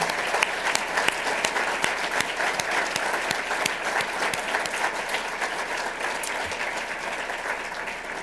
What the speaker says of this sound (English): Let's give one last round of applause to everyone here this morning.